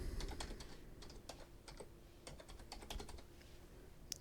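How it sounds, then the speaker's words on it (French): Fingers typing on a computer keyboard while coding in Node-RED, a quick irregular run of close key clicks with brief pauses, fairly quiet and with no talking. "je vais taper ici, donc thermomètre"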